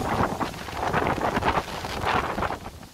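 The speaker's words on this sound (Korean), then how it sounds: "오전보다는 확실히 바람 많이 부네" Strong typhoon wind gusts buffet the microphone continuously during Typhoon Lingling, a loud roaring rush swelling and easing in waves with no voices.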